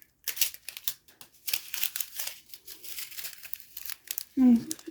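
Plastic or paper packaging crinkles and tears in short, busy bursts while someone cuts it open with scissors, ending in a louder thump near the end.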